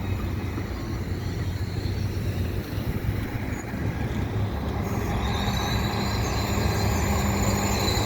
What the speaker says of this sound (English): here's the train that's going to Hudson. It's making its EXO station stop here at Dorval.